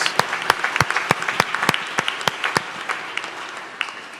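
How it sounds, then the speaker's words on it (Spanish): Church congregation at a ceremony service applauds with loud, close clapping, sharp individual claps standing out of a steady crowd wash that fades slightly toward the end. "Un aplauso para ellos desde Puerto Rico."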